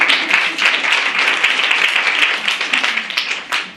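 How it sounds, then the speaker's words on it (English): Primary school audience applauding the principal: a brief, lively round of dense clapping from many hands, steady and loud throughout before tapering slightly at the end. "Give Principal a round of applause."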